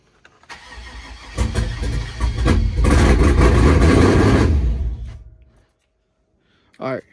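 A 5.3 V8 engine in a Tahoe with a swapped cam cranks, catches and runs rough and loud for a few seconds before shutting off, followed by a brief voice.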